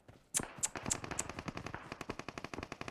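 Rapid automatic gunfire in the PUBG battle royale game, a burst of loud close shots with sharp cracks at the start, then a steady fast stream of rounds continuing to the end without talk.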